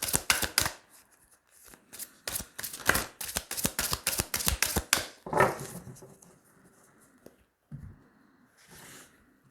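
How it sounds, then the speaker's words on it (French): A deck of tarot cards being shuffled close by, with rapid crisp riffling flutters for about five seconds, then a few softer slides and taps before going quiet. "on va tirer 3 cartes"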